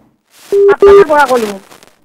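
Incoming caller on a live Assamese TV medical phone-in show about kidney disease: two short, steady electronic tones sound in quick succession, followed by a voice speaking over the line.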